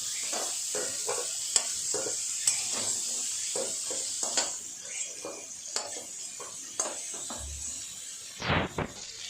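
Fried shrimp lifted out of a sizzling pan of oil, with steady frying hiss under repeated light clinks and scrapes of a utensil against the pan.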